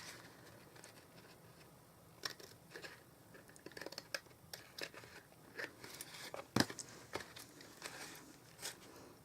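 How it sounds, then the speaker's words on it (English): Not-so-sharp scissors trim cardstock-style paper in short, irregular cuts with soft rustling between, fairly close and quiet, with no voices. "With our not so sharp scissors."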